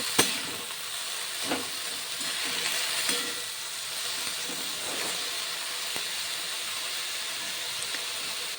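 Bottle gourd greens hissing in a hot pan as they are stirred and spread out, a loud scrape and clatter at the start, then scattered spoon knocks over a continuous steamy sizzle.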